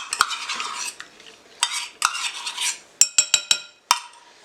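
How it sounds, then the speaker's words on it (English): A whisk beats eggs and sour cream in a bowl, heard close and loud as rapid scraping clatter, first in a run of strokes and then in sharp separate taps against the bowl, with no talking. "we're going to whisk that together."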